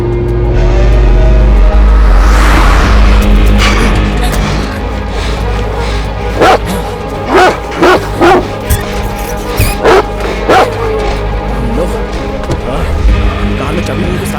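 A dog barking in a series of sharp, repeated barks up close, following a loud engine roar and mixed with voices and car noise in a tense scene.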